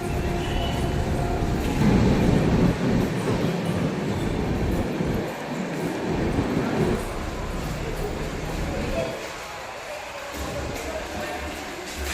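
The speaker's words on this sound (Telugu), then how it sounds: "ట్రైన్ సెకండ్ ప్లాట్ఫామ్కి వస్తుంది అనమాట" A train pulls into the second platform of a railway station, running slightly late, with a steady rumble and the clatter of wagons. People talk nearby over the noise.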